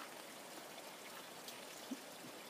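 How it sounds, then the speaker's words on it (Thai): Water flows steadily from upstream into a resort house set in the water, a constant soft rushing trickle with a brief small splash, no voices. "น้ำไหลตลอดเวลา"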